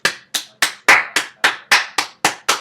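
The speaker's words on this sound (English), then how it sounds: "Give him a round of applause." A round of applause breaks out on a live podcast: about ten sharp, evenly spaced claps in steady rhythm, loud and close, with no talking over them.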